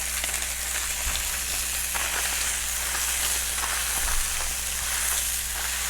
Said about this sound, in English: while that bacon gets cooking